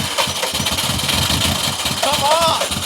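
A Subaru STI drag car engine cranking and catching, rough, busy churning with uneven pulsing as it struggles toward an idle, loud and close, with a person talking over it.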